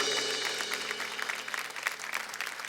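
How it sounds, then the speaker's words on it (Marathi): An audience at a Marathi women's television show applauding together, a dense, sustained burst of clapping heard close and alone. "एकदा जोरदार टाळ्या झाल्या पाहिजेत त्या ताईंसाठी."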